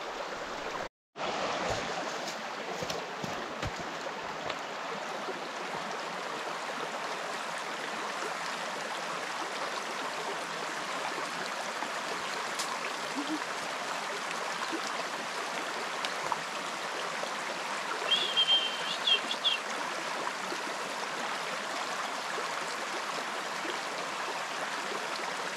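River water runs past a sluice box set in the stream during gold panning, a steady, soft, even rush and trickle that continues throughout with no voices.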